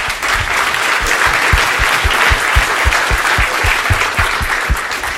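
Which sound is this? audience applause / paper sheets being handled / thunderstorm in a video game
audience applause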